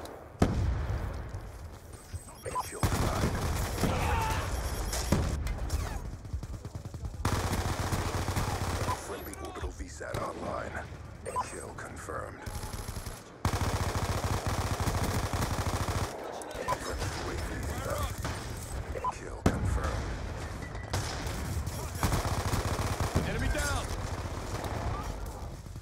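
Sustained machine-gun and rifle fire from Call of Duty: Black Ops II rattles almost continuously, loud bursts layered with distant shots and radio-style voices speaking underneath.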